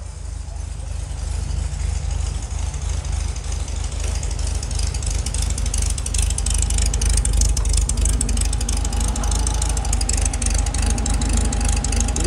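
A 1972 Volkswagen Beetle 1500 air-cooled engine with Hall-effect ignition idles steadily with a constant low rumble and light mechanical rattling, close by and uninterrupted, with no voices.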